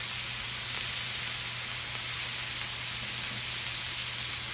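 Five cloves of chopped garlic sizzle on a 36-inch Blackstone griddle, an even, steady hiss of hot oil with little variation throughout, heard alone.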